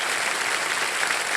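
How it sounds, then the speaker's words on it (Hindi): Studio audience on a TV quiz show gives a steady round of applause for contestant Vijay, a dense continuous clapping wash without pauses. "जोरदार तालियां बज जाए एक बार थैंक यू।"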